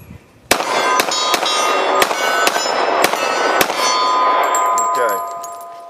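About nine sharp pistol shots from a Glock 30S ring out at an uneven pace outdoors, each followed by a bright metallic clang as a round strikes a steel target. The reports are loud and close, with ringing that lingers between shots.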